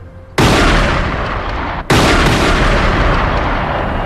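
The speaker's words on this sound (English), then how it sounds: "Outside, the police hear gunshots." Gunfire outside an embassy under siege: two loud, abrupt broadband bursts, the second about a second and a half after the first, each followed by a long rumbling, reverberant wash with no voices.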